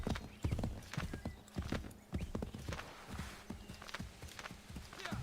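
A single horse gallops hard in Assassin's Creed III, its hooves striking in a fast, uneven rhythm of close thuds over a low background hum, with no talk over it.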